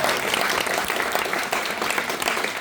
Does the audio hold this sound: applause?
yes